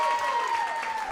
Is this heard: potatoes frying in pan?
no